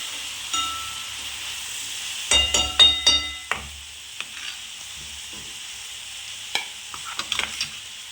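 Chilli powder, turmeric, coriander powder, kitchen king masala and black masala sautéing in oil for Bhogi mixed-vegetable bhaji: a low hiss broken by a quick cluster of clattering stirs, then a few scattered scrapes, close and fairly loud.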